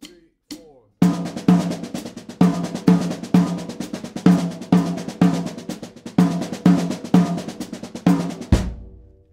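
Drum kit playing Indian-style phrasing with accents on the high tom: a brief count-in, then steady rapid strokes with regular louder tom hits, close and alone, ending with a low ringing hit.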